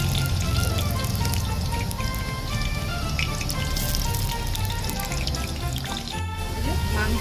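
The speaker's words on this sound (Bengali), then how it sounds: "কড়াই তেল দিয়ে দিলাম, এবারে মাংসের আলুটা আমি ভেজে নেব।" Potato pieces frying in oil in a wok during a rooftop outdoor chicken curry cook, giving a steady, dense crackling sizzle that holds at an even level throughout, with no talking.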